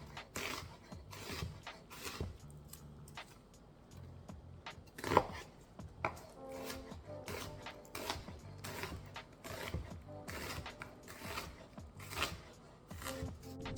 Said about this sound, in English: Now I'm just going to slice up an onion for the stir fry.